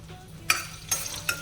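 Ginger and garlic hit hot oil in a pan for street-style chow mein, making three short, loud sizzling bursts in quick succession over a low background hum.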